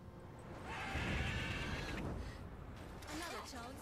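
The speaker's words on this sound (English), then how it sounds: "Worthy of the best horse. The mare is yours." A horse neighs in The Witcher 3: Wild Hunt, with a sustained whinny over creaking mechanical game ambience and a shorter wavering call near the end, fairly loud and without talk.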